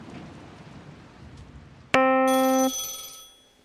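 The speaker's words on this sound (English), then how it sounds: "Always a ringing phone." A telephone rings with one loud electronic burst that cuts in suddenly over a faint hiss, holds under a second and then tapers off.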